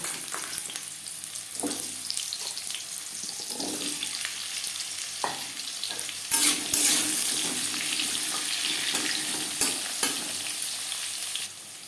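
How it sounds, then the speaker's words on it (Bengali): Green papaya pieces sizzle steadily in hot oil seasoned with whole cumin seeds and a bay leaf for a Bengali vegetarian dish, with occasional stirring scrapes and louder bursts of frying; no one speaks. "10-15 সেকেন্ড জিরে তেজপাতা ভেজে নেওয়ার পর দিয়ে দেবো পেঁপে"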